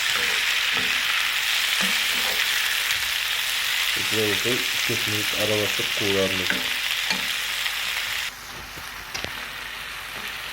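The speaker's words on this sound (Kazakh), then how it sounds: "Помидор салып, бұны да бір 3-4 минут қуырып аламыз." Tomato frying in a pan with onion and spring onion for a Kazakh-style omelette, a steady loud sizzle throughout with stirring clatter in the middle, under brief talk before the sound drops slightly near the end.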